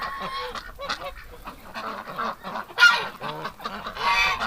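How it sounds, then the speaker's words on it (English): Goose honks from a female goose in a winter flock of farm waterfowl, a series of loud, close, nasal calls coming in irregular bursts throughout, with other birds calling alongside. "That goose, that must be the female."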